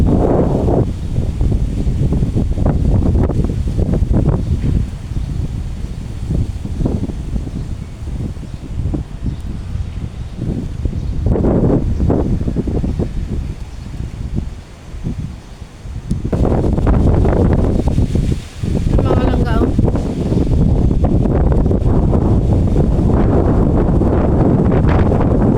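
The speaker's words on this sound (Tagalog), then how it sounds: "Ang lakas ng hangin dito." Strong gusty wind in Vietnam roars across an outdoor microphone as tree leaves rustle and thrash, rising and easing in waves with a brief lull midway, loud and continuous.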